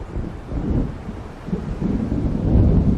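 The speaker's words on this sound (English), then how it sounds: "It seems there's a storm coming." Thunder and wind from a coming storm in Alan Wake Remastered, heard as a low rolling rumble with gusty wind. The roar swells toward the end and plays alone, with no voices.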